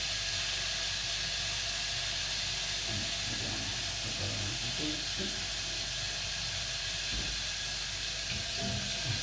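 Steady broadband sizzling hiss of calamari frying in hot oil in a pan, continuous and close, with faint low clatter underneath.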